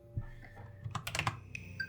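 Password being typed on a computer keyboard in a point-and-click adventure game, a quick run of about six close, light key clicks with soft thumps between.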